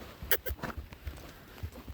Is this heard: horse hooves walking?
yes